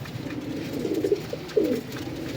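Black-winged pigeons, a prized breed, cooing nearby in two soft, throaty bursts over a low background murmur, with no talking.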